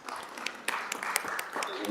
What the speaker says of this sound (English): Would the directors please give Councilmember Day a round of applause for me, please?